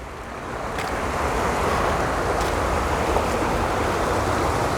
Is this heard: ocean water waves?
yes